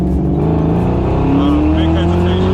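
A Fox Body convertible with a 306 engine swap pulling at full throttle, its loud engine note rising steadily in pitch as it accelerates, close and continuous, with people talking over it.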